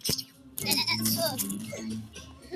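A goat bleats in a wavering, nasal cry lasting a couple of seconds, close and fairly clear.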